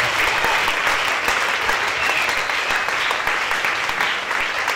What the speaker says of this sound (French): Acclamez très fort pour ce Dieu